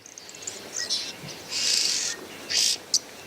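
Red-billed oxpecker calling in open savanna: several short, high, hissing and rasping bursts at moderate distance, with longer buzzy calls broken by gaps and a final sharp note.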